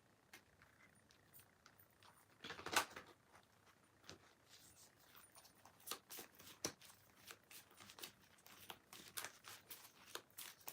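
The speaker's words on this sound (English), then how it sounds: "It's like these cards don't want to shuffle together." Repeated riffling and snapping of playing cards being shuffled, close by, in uneven bursts with brief pauses between them.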